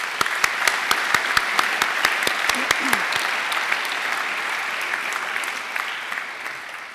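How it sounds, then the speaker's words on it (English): An audience applauds at a university graduation ceremony, steady clapping from a large crowd that starts full and slowly thins and fades, with a few sharp individual claps standing out near the start. "Please join me in giving them a round of applause."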